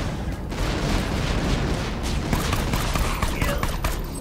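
Gunfire in Borderlands 2, a dense run of overlapping shots and booms filling the whole stretch at steady, loud level, with a voice talking faintly underneath.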